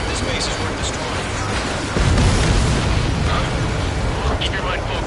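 A destroyed enemy transport aircraft bursts apart in the jet combat game Ace Combat 7, a broad roaring blast swelling midway over continuous engine and wind noise, with radio chatter in the background.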